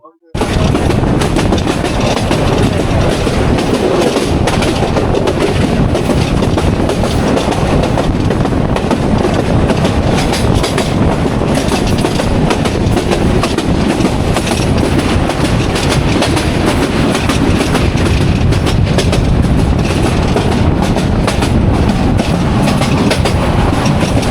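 Heard from aboard, the Dewanganj commuter train rumbles loudly and continuously on the rails as it nears Mymensingh station, with steady clickety-clack from the wheels.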